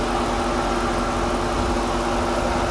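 A stock 2008 Dodge Challenger SRT8 with a Mopar cold air intake idling smoothly up close, a loud, even engine rumble with a steady mechanical hum and no revving.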